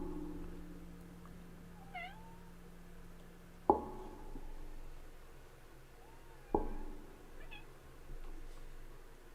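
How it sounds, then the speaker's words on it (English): A cat meows several times indoors, short rising and falling calls spaced apart, fairly faint against a low room hum, with two sharp knocks in between and no speech. "Cat."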